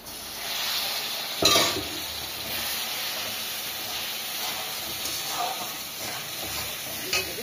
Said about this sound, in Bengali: একটু কষাইয়ে নিচ্ছি।